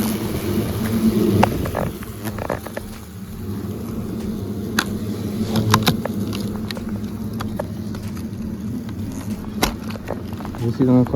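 Hornets buzzing around a hidden nest outdoors in Gironde, a steady low drone close by with brief louder passes as insects fly near, and a voice speaking French over the buzz.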